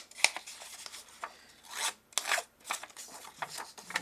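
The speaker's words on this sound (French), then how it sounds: "on va le distresser. C'est-à-dire abîmer les bords." A small distressing tool rasps along the edges of a sheet of light paper card, giving short scratchy scraping strokes in uneven bursts with brief pauses, close up and fairly quiet.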